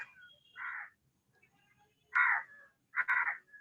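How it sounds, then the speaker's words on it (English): Several crows caw in short, loud bursts, picked up through a participant's microphone during an online meeting, with quiet gaps between the calls and no talking over them. "I can hear a lot of crows from somebody's microphone"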